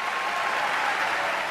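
A Carnegie Hall crowd applauds Pete Seeger, a dense steady wash of clapping heard up close and filling the whole moment without any talk.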